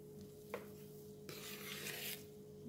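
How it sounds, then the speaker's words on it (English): Soft scraping strokes of dhokla batter being gently folded with fruit salt in a mug, faint and close, with a slightly louder rustling pass in the middle. "Just fold the batter."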